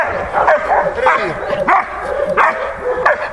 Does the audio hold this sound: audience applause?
no